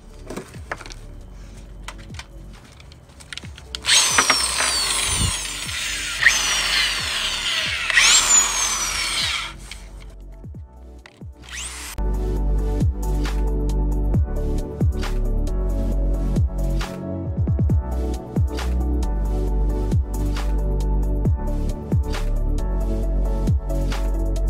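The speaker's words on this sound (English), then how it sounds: "All right, so there it is, the wire wheel." A drill fitted with a wire wheel grinding a Type R throttle body port for matching to a D16Z6 intake manifold, loud sustained whirring with shifts in pitch and a brief pause before running steadily again.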